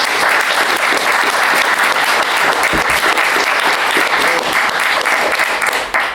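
Sustained audience applause at a 2000 AD comics panel at Thought Bubble 2018, loud, dense and even from start to finish before it tapers off at the very end.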